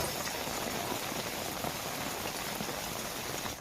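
Steady rain pours down continuously somewhere in Gujarat's monsoon, a dense even hiss of drops on surfaces with no gaps and no voices.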